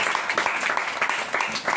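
A small group of children at a camp claps for a couple of seconds, with brisk, uneven hand claps and a few voices murmuring underneath.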